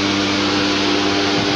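An electric drive motor on a DePalma N machine (a homopolar generator) runs with its magnet not yet energized, giving a steady, loud hum with strong low tones and a broad whir that holds unchanged throughout, with no voices.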